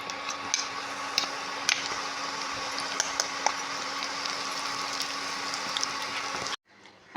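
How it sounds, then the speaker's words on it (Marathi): Peanut chutney fries in about two spoons of hot oil in a pan, giving a steady close crackle with scattered sharp pops for several seconds before the sound cuts off abruptly. "पॅनमध्ये 2 चमचे तेल टाकून आता चटणी फ्राय करून घेते."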